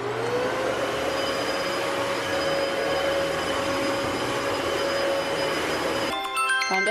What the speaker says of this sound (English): So I'm just going to quick do a vacuum before I open,